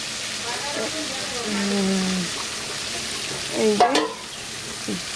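Garlic paste is stirred in a pan with a quiet frying hiss and a brief clatter of a utensil near the end, while a voice speaks softly underneath.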